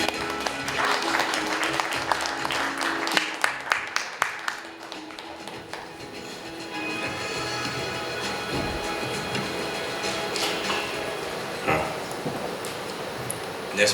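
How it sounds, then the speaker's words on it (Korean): Forum audience applauds to welcome a presenter to the stage, steady clapping that runs through the whole stretch at a moderate, even level, with some sharper claps standing out early on. "따뜻한 박수와 함께 맞이해 주시기 바랍니다"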